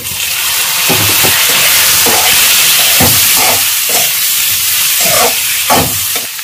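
Cut drumstick pieces fry loudly with golden-brown onions, a steady dense sizzle, broken by repeated stirring scrapes in the pan, close and without any talk.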